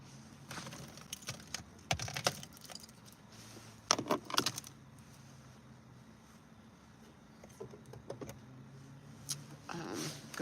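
Keys jangle in scattered bursts of metallic clinks while someone searches for them, close by over a quiet background, with several louder clusters of rattling.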